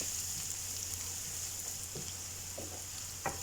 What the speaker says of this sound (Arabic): وهلا بضل بحمص البصل لحتى يدبل تماما وياخد اللون المطلوب، لون ذهبي